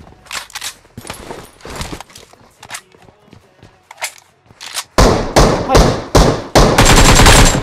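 PUBG Mobile gunfire: loud rapid bursts and single shots in irregular clusters, some quieter distant shots between, growing dense and loud toward the end, with occasional footsteps.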